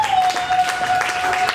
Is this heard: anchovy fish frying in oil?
no